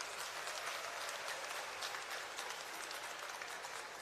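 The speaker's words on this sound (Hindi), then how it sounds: "एक बार जोरदार तालियों से अभिनंदन करें।" Crowd applause at an Aam Aadmi Party political rally in Haryana: steady, dense clapping from a large audience, fairly distant and even throughout, with no voices standing out.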